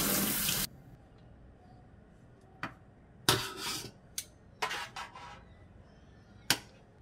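Running water from a tap rinses cleaning product off a greasy gas range hood and oven. A loud gush at first gives way to quieter background flow with intermittent splashes and clatters.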